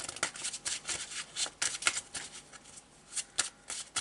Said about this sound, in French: Je vais réclamer quelques cartes du tarot de Marseille quand même pour compléter un petit peu